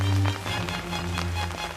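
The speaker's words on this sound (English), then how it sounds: "It's a rainy day." Rain falling on a surface, a short burst of steady pattering with a low hum underneath.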